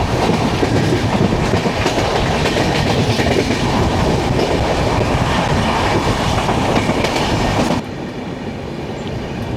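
Trivandrum Veraval Express running near Adri Road station, a loud steady roar of rolling wheels with clickety-clack rail joints throughout, dropping slightly quieter near the end as the train slows down.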